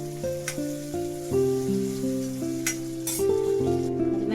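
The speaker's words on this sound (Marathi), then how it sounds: "आपण बारीक करून घेतलंय ना अद्रक हे पण टाकणार आहे वाटत त्याला भाजून घेऊया मिरची टाकते" Chili and ginger fry in a hot pan for a vegetarian festival thali, with a steady sizzling hiss under loud instrumental music and occasional sharper crackles.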